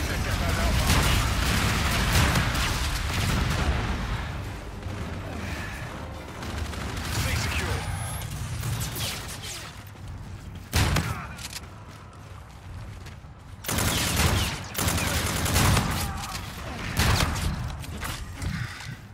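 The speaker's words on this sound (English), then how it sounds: "Enemy bombardment incoming." Enemy artillery bombardment in a video game shakes the scene with dense, overlapping booms and rumbling blasts, some sharp cracks standing out, loud and continuous for the whole stretch.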